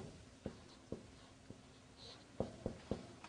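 Arabic words being written down: a series of sharp, faint taps and short strokes from a pen or chalk, spaced irregularly then coming in a quicker cluster, with no talk over them.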